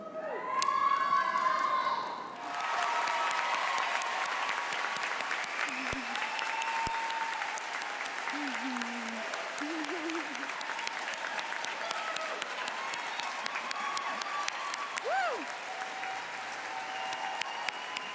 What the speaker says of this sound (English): Let's applaud the members of the SCAD Atlanta class of 2017.